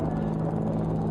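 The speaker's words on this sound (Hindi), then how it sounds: "इंडिया गेट के ठीक पास पहुंचते हुए अजय फॉर्मेशन में 3 अपाचे हेलीकॉप्टर" Three Apache helicopters fly in formation over the Republic Day parade on Kartavya Path near India Gate in New Delhi, a loud, continuous rotor drone with a steady rhythmic chop and no voices.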